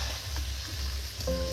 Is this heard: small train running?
no